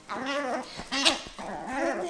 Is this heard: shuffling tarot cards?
no